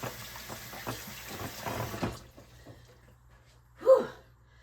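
Water runs steadily into a kitchen sink for about two seconds, a close, hissing broadband rush, then cuts off, leaving near quiet broken by one short breathy burst.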